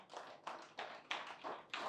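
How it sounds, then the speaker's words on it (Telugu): A workshop audience claps in a session hall, about six evenly spaced, fairly soft claps in a steady rhythm over two seconds. "ఈ టెక్నాలజీకి ఒకసారి క్లాప్స్ కొడదాం"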